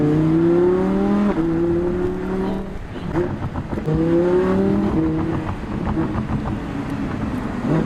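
An Audi R8 V10 Plus accelerates hard through rising gear pulls, its engine note climbing in pitch, dropping at a shift, then climbing again, loud and close, with faint voices underneath.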